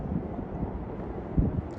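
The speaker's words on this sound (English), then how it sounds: "It is a bit windy." Steady low wind buffeting the microphone near a harbour bridge, a continuous rumbling roar with one brief stronger gust near the end.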